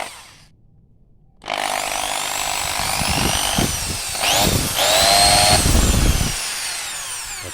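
A freshly repaired electric drill starts up after a brief hush and runs loudly and steadily for several seconds, its motor whine rising and shifting in pitch with rough, grinding undertones.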